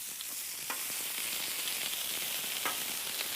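Onions sauté in oil on a griddle beside thin burgers, giving a steady, even sizzle with a couple of soft scrapes, at moderate distance.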